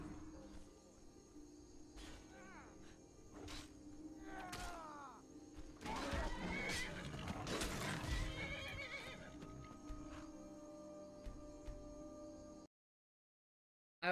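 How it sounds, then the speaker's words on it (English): A horse in Skyrim whinnies and neighs repeatedly, with clip-clopping hooves and combat noise building underneath, loud and busy before cutting to brief silence; faint talk drifts in now and then. "I didn't want him to kill my stupid horse."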